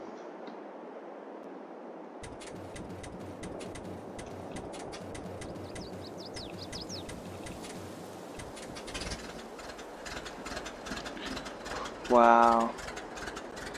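An old farm tractor engine starting and running rough: a rapid, uneven mechanical clatter picks up and keeps chugging at moderate loudness, with a brief exclamation at the start and a short whistling tone near the end.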